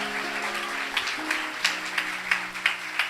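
A church congregation applauds at a Sunday evening service to welcome a visiting pastor; the clapping is fairly quiet and distant, with several sharper claps standing out over a sustained organ-like tone.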